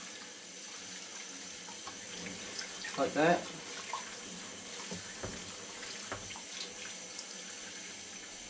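Stainless steel tumbling pins are swirled in water, giving a steady wet sloshing and rattling with a brief louder splash midway, heard up close while a voice speaks briefly.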